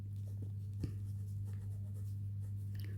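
A pen scratches across paper in short, quiet strokes close up, set against a constant low electrical hum.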